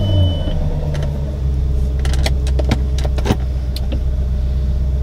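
A car idles and rumbles as it gets going, with a short electric whine near the start followed by a cluster of clicks and clunks from inside the cabin, close and without talk.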